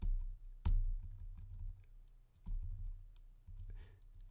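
Keys on a computer keyboard are tapped while working in Adobe Photoshop: a few soft, separate clicks at an irregular pace, fairly close and quiet, with no one talking.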